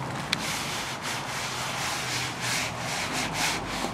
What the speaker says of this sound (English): I'm gonna use more of the green and kind of rub it a little bit.